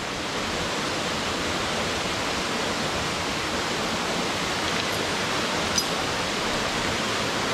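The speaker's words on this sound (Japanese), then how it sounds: "この滝めっちゃかっこええ" A waterfall roars in a mountain gorge, a dense, steady rushing wash of water filling the scene evenly from start to finish, with one faint click near the end.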